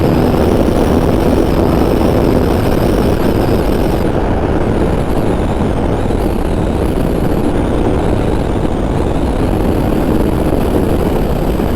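A 2021 BMW R18 motorcycle with a freshly flashed BT Moto ECU pulls hard under acceleration, its engine drone loud and continuous with heavy rushing wind noise and no talk.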